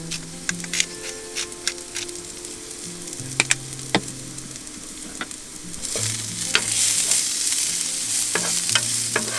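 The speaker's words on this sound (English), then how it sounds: "I like my sausage a little bit burned, not burned, but definitely not undercooked." Sausage frying in a pan on a small stove inside a van, a steady sizzle under scattered sharp pops and spatters, with occasional stirring clatter close by; no one talks.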